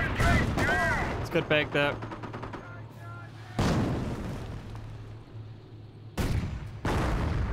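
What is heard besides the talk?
gunfire in the video game Company of Heroes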